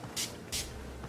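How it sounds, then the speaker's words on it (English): Two quick hissing bursts of Urban Decay All Nighter makeup setting spray, close and fairly loud, with a short pause between them over a faint background. "to keep on your makeup all night, you know this Urban Decay all-nighter spray is the bomb.com"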